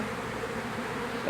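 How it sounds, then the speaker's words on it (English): A swarm of honeybees hums around an outdoor post, a dense continuous buzz that stays close and even throughout without any speech. "there still seems to be an awful lot of bees coming from somewhere"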